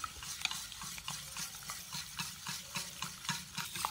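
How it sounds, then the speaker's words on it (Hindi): Batter for a cheesy veg egg pasta mixed with coriander and oil, stirred in a bowl with quick, regular wet slapping strokes, close and continuous, with no voices. "मिक्स करेंगे इसको।"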